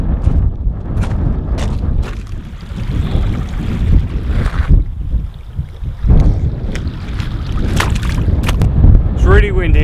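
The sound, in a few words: strong wind blowing outdoors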